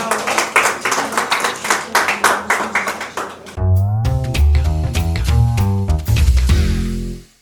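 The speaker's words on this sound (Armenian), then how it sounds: "Ձեր ծափարությունները կրկին" An audience claps at a televised author interview with novelist Margaret Derants, first in steady rhythmic bursts, then the clapping continues under a swelling musical sting that carries on to the end.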